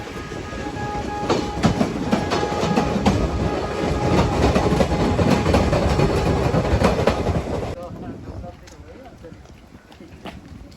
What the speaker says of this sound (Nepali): फाइनली हामी योरो स्टेसन आइपुगेको छौँ।